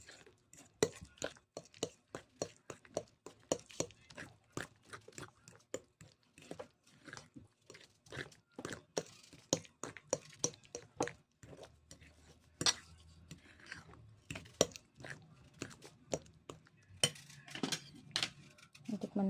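Homemade egg sandwich spread stirred in a bowl, a utensil clinking and scraping in quick, uneven strokes up close, with faint voices now and then.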